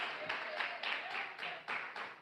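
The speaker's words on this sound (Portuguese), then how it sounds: "Palmas de vitória para Jesus de Nazaré." A church congregation claps in steady rhythmic unison for Jesus during a sermon, the beats spaced evenly and moderately quiet, with faint background sound beneath.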